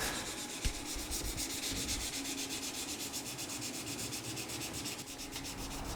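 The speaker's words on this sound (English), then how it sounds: "then I use different types of abrasive tools to make the surface" Abrasive tools rubbing and sanding a cast glass surface in an art studio, a steady close gritty scraping that continues without pause, with one brief knock near the start.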